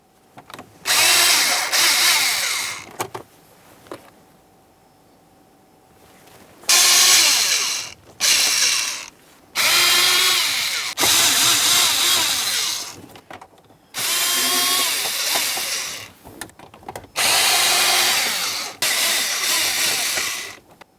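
Power tool driving out seven 5.5mm screws holding the instrument cluster lens of a 1998-2002 Lincoln Navigator; loud whirring bursts of a few seconds each, repeated about six times with short pauses between.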